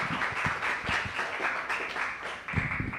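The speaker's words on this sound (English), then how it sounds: "give another appreciation round of applause for Madhuri" An audience at a Sunday feast gathering claps for a speaker after her presentation. Steady, dense applause carries on for the whole stretch at moderate volume, with no voices over it.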